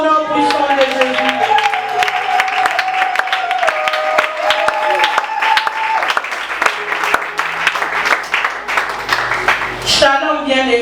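A church congregation acclaims and applauds in prayer in the name of Jesus, dense steady applause with voices and cheering mixed in throughout, under sustained musical tones, ending abruptly near the close.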